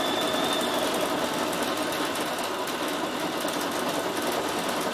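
A Bernina 7 Series sewing machine with its embroidery module attached runs fast and steady, stitching out lettering in a continuous mechanical whir with dense rapid needle chatter throughout.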